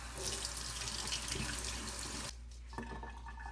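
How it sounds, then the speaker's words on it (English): Tap water runs steadily as a cleaned silver coin is rinsed under a faucet, a broad continuous splash that drops to a softer, thinner stream partway through. "Let me rinse it off."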